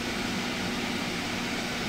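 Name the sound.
vacuum packing machine sealing bag of carrots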